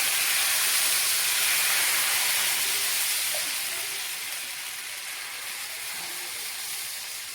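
Rava dosa batter spread onto a hot pan, a loud, continuous hiss close up that slowly eases off as it settles, with nothing else over it.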